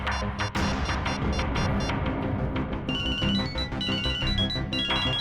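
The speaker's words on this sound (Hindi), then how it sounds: "ये क्या सर, मेरे फोन करने पर अलग तरह की रिंग बजी?" A phone ringtone rings against a noisy background, with repeated bell-like electronic tones in a musical pattern that grow more distinct toward the end.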